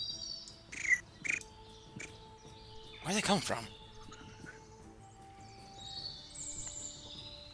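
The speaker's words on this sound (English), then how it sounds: "Birds are chirping." Ambient birdsong from a Dungeons & Dragons tabletop session plays as a few faint, brief chirps early on, beneath and between people talking.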